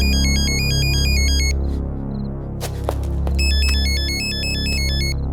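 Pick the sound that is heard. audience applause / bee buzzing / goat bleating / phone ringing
phone ringing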